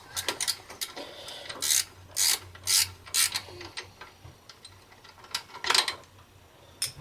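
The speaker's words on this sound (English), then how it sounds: "Take a 14mm wrench and go ahead and break this nut loose" 14mm wrench breaking loose the belt tensioner pulley nut on a Nissan Xterra 3.3 engine, heard as a series of close, sharp ratcheting clicks and metallic bursts in irregular clusters, with no talk.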